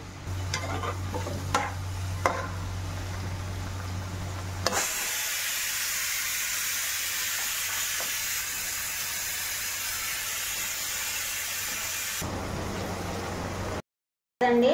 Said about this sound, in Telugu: డీప్ ఫ్రై చేస్తున్నాను, పొట్లకాయ డీప్ ఫ్రై చేస్తున్నానండి